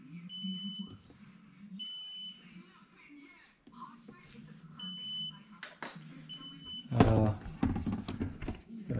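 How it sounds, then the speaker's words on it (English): An upgraded Razor electric scooter with a 60V Surron battery and 5kW setup emits repeated high electronic beeps in short bursts, interspersed with someone talking and handling noises. "I'm just getting a beep, beep, beep, beep."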